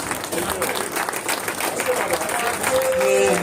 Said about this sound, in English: I think it deserves a better round of applause.